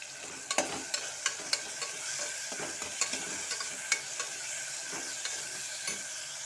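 Tomatoes sautéing in a pan with onions and curry leaves for mutton varuval, a bright continuous sizzle overlaid with rhythmic spoon taps and scrapes, close and steady.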